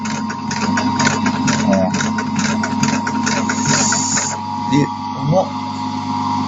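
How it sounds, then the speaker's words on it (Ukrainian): An electric sewing machine runs with its motor on, stitching slowly through a leather horse bridle in a steady rapid mechanical chatter, close and loud, while someone talks over it. "І прострочую її отак, не спіша вже з включеним мотором"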